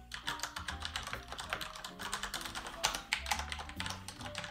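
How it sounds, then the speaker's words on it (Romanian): Typing on an ROG Strix Flare mechanical keyboard during a noise test: a steady, fast run of soft, muffled key clicks and taps, fairly quiet and continuous with no talk. "Pentru o tastatură mecanică, este extrem de silent."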